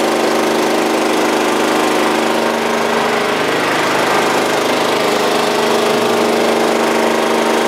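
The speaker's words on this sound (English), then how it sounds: "Right now we're cutting the pipe in half and grooving the right-hand side as we're looking at it." Pipe machine cutting a PVC pipe in half and grooving one side, a loud constant motor drone with a grinding, whirring edge and a slight pitch dip near the end, close and uninterrupted.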